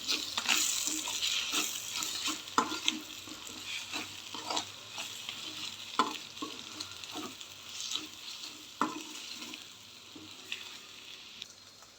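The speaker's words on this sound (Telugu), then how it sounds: "ఇప్పుడు అన్నీ కలిసేలాగా బాగా మిక్స్ చేసుకుందాం." Egg fried rice mixture with garam masala and coriander powder sizzles steadily in a pan, punctuated by repeated scraping stirs of a spatula at an uneven rhythm, close and moderately loud with no talking.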